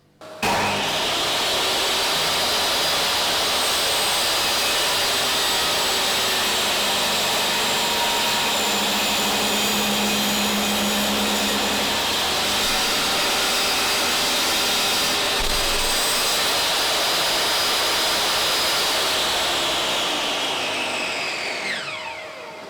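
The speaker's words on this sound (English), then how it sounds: "Now we need to cut the legs to size." A power saw cuts workbench legs to length in a woodworking shop, a loud sustained whine running almost unbroken for about twenty seconds before winding down at the end, with no talking.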